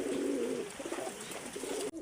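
A female yellow Bombay pigeon gives a low rolling coo up close, followed by softer burbling that ends abruptly, with no voices present.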